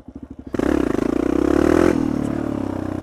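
A motorcycle engine during a wheelie: a few close popping idle pulses, then a loud sudden rise into a strained, rising revving roar that holds and slowly eases off.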